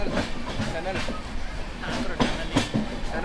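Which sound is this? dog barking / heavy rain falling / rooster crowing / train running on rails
train running on rails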